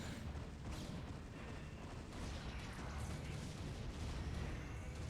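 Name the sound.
cannons firing in the video game tQ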